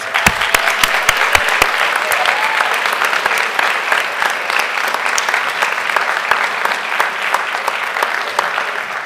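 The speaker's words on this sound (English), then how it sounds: "Let us give you a big round of applause." A school board meeting audience gives a big round of applause to a middle school advanced treble choir, a steady, loud wash of clapping that carries through without a break.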